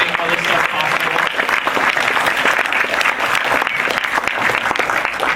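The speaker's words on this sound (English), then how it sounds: "give them a short round of applause" Audience applause at a game industry event, thanking sponsors: dense, steady clapping from a large crowd that fills the whole stretch without a break, loud and close.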